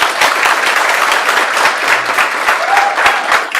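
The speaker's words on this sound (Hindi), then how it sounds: "एक बार ताली बजाओ" A classroom audience applauds their accounts lecturer during a CA Inter coaching class. The clapping is loud, dense and continuous and lasts the whole stretch.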